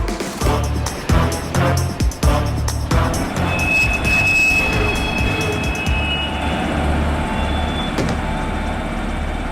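Goods train running on rails in a cartoon, loud rhythmic clanking of wheels over joints, then a sustained metallic squeal of wheels with ongoing rumble.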